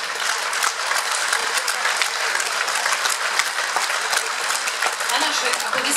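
A concert audience applauds to welcome an accordion duo on stage, with thick, sustained clapping from a large crowd that stays loud and steady from start to finish.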